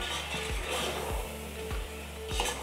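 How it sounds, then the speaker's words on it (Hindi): Ground spice masala frying in oil for chicken korma, a steady close sizzle with a regular spoon scraping and knocking against the pot about twice a second. "अब हम इसकी 5 मिनट तक भुनाई करेंगे"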